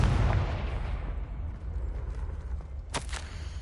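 A Confringo blasting spell goes off in Hogwarts Legacy as a deep booming explosion with a heavy rumbling low end, followed by crackling debris and a short sharp burst near the end.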